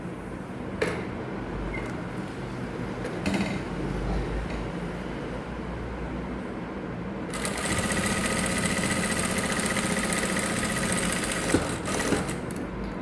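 Sewing machine stitching a folded seam runs as a steady close whir, with light handling clicks, and grows louder and brighter partway through as the stitching speeds up.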